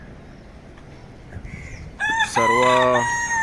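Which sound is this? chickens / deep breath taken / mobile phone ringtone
chickens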